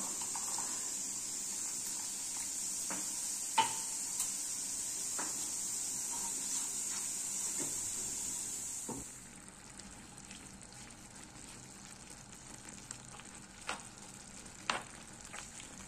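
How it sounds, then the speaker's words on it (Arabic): Potatoes frying with spices in a pan for a tajine, a steady bright sizzle that drops to a quieter simmer halfway through, with occasional utensil clicks and stirring knocks. "خليو هاد البطاطا مقليه تاخد لينا توابل"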